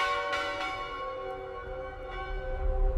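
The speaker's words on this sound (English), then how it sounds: "The bell called them, the same way it once called the lost." A church bell rings with a bright, sustained metallic tone, a couple of strikes renewing the shimmering overtones as they slowly decay over a low background rumble, moderately loud and alone.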